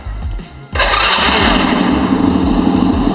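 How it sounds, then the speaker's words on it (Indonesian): A Honda Grand motorcycle engine cranks briefly, then catches and settles into a loud, steady idle. "Setelah ini nanti kita coba nyalakan mesinnya"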